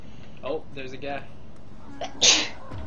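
A sneeze bursts out near the end amid dusty-building game play, a single sharp loud burst after brief mixed voices talking.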